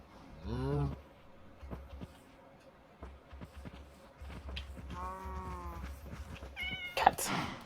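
Cat meowing in the Minecraft video game, several distinct rising meows spaced across the stretch, fairly close and clear over a low background hum and scattered game noises.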